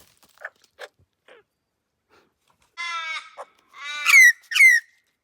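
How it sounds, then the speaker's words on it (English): A crow gives several harsh caws in the Flinders Ranges of South Australia, faint scattered calls at first, then louder drawn-out rasping caws up close, with silence between them. "And is that a crow?"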